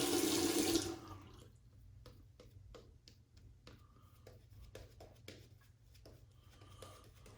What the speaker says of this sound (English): Get some water on there. I'm gonna start painting a little bit of water in.